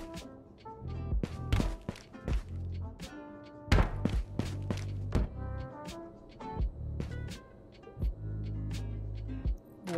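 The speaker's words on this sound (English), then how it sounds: "I'm gonna reload my mag." A magazine is reloaded by hand in the VR shooter Ghosts of Tabor, giving a series of irregular close clicks, taps and dull knocks as rounds and parts are handled, with quiet gaps between them.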